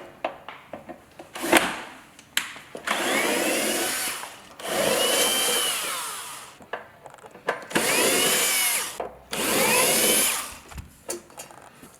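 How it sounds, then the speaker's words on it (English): A cordless drill with a Phillips bit backs screws out of a Marshall tube amplifier in four sustained whirring bursts of a few seconds each, separated by clicks and handling knocks, up close and alone. "So I need to open the amplifier, cordless drill, Phillips head."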